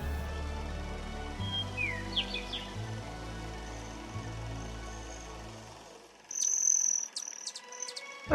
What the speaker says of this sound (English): It's a great catbird in our yard.